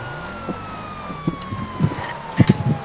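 A police car siren in a video game sounds as a faint steady wail, sliding slowly downward, beneath close bumps and clicks.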